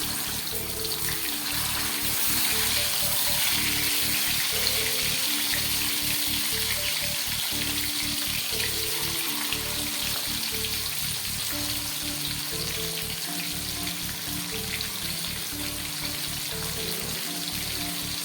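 Fish frying in hot oil, producing a continuous, even crackle and sizzle, like steady rain, that holds at one level throughout.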